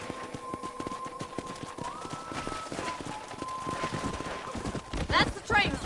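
Rapid horse hooves clip-clop at a steady gallop in Red Dead Redemption on PS5, over a constant droning background, with a brief whinny-like sound near the end.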